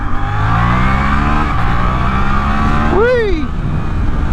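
A Suzuki GSX-8S motorcycle accelerating hard, a loud close engine note climbing through the revs, then a quick upshift with a sharp pitch drop and rise, over wind rumble and a talking rider.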